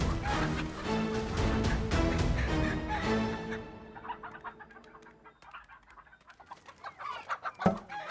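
Country chickens clucking in a rural scene, a series of short sharp clucks and squawks that emerge as a dense musical background fades, with a louder squawk near the end.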